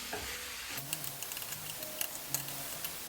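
Lean 93% ground beef cooks in a pan with a low, steady sizzle. A few light clicks of a utensil scrape and stir it at irregular intervals, close by, with no voices.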